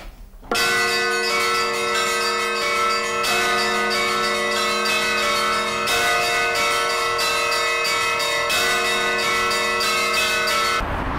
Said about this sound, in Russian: искусство колокольного звона может освоить практически каждый